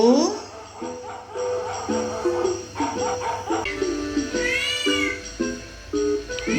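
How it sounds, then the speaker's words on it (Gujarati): A cartoon cat's meow in a children's animated story, heard amid a bright musical backing with other tonal sounds, a rising-and-falling cry standing out near the middle. "બિલાડી"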